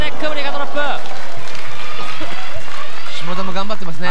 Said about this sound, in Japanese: 場内からおおという大歓声が上がりましたけれども